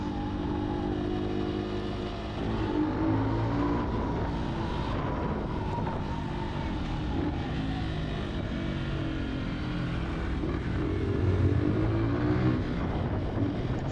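A motorbike gives a quick throttle blip while riding on a road in the south of France, its engine revving up and settling over steady, continuous road and wind roar.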